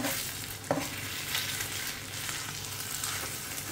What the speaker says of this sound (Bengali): এভাবে আমি ডিম ভাজি করি